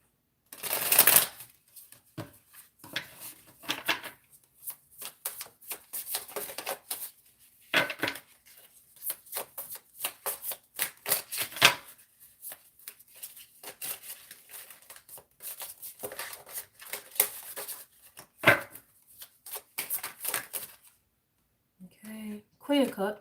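Tarot cards being shuffled at close range, with a long run of dense, crisp riffling and flicking that surges and eases in bursts and has brief gaps, playing alone with no talk until a faint, quiet ending.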